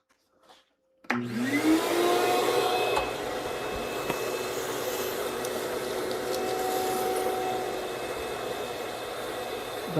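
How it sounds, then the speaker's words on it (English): A vacuum cleaner starts abruptly and runs steadily, its roaring hiss loud and close while it sucks up chunks of bark through the hose, with a rising whine as the motor spins up. "let me vacuum up"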